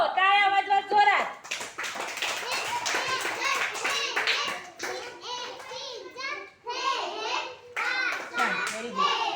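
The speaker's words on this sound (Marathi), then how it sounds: "टाळ्या वाजवा जोरात." Children clap loudly together in a classroom-like setting, a steady dense patter lasting several seconds with children's voices and shouting over it, briefly dipping before resuming.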